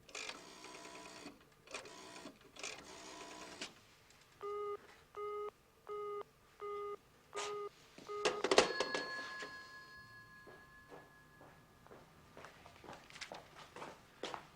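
A telephone is dialed in a British TV drama, with a string of short, evenly spaced electronic tones in quick rhythm, preceded by soft clatter and followed by a sharp click and a fading electronic hum.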